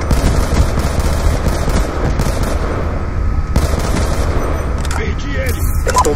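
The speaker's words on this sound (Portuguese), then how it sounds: "Alguém tentou me atirar. Deu pra ouvir as rajadinhas." Rapid bursts of automatic gunfire from the video game Black Ops 2, dense and continuous across the whole stretch, loud and close with scattered heavier booms mixed in.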